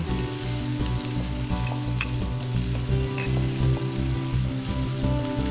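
Chopped onion frying in a couple of spoons of hot oil for a gongura (sorrel leaf) chicken curry, a steady dense sizzle with faint stirring clinks, loud and close throughout.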